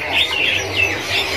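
Caged birds at a bird shop kiosk, including bush larks (beranjangan), chirp and tweet in short, clear, repeated calls at moderate distance over a faint background hum.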